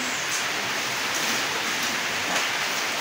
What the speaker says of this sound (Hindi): अभी आप लोग को बारिश दिखाए,